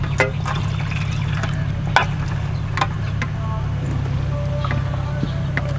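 Water pours from a large glass canning jar of goat meat into a tray, soft liquid splashes and trickles over a steady low hum, with clinks and knocks.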